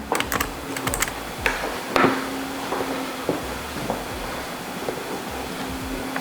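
Keys tapped on a computer keyboard while typing a support message, a close run of irregular light clicks with brief pauses, no talking.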